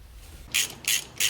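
Three quick ratchet bursts, evenly spaced and close, as a ratchet works the shifter assembly bolts loose on a Mustang during transmission removal.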